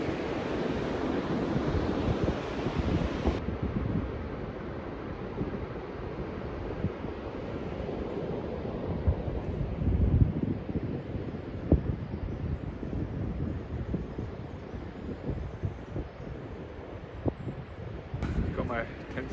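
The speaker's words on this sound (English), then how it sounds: "Nice beach." Surf washes onto a remote beach on a coastal wilderness trail while wind buffets the microphone, producing a steady broad roar with occasional louder gusts and no talking.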